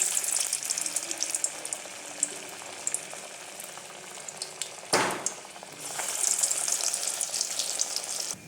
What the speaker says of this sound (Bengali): থানকুনি পাতার বড়াগুলো সমস্ত ছেড়ে দিয়েছি